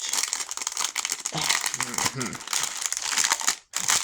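Wrapping on a care package of wood-burning supplies crinkles and rustles continuously and fairly close, with a voice talking over part of it.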